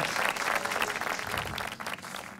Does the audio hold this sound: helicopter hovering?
no